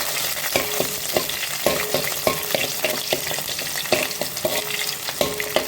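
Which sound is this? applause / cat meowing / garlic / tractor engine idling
garlic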